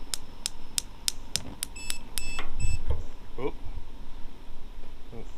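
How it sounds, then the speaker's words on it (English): A propane detector alarm aboard a sailboat by the galley stove goes off in a rapid series of high, evenly spaced electronic beeps, followed by a few clicks and knocks of handling nearby. "got a little detector going off there"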